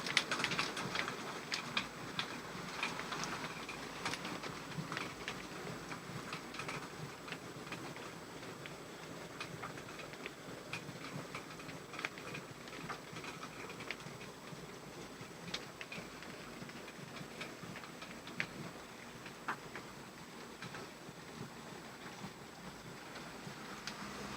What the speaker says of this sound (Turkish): Edirne'de an haliyle buz yağıyor